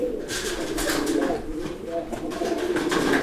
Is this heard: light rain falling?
no